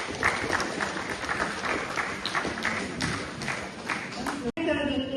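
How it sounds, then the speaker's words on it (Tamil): An audience at a Tamil book launch applauds a law college student with steady, dense clapping from a modest crowd, and a brief dropout near the end before the sound resumes. "அவரை அழுத்த கரகோஷத்துடன் பாராட்டுவோம்"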